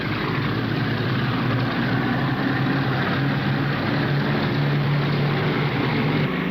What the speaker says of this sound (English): It is the only B-29 in the world still flying.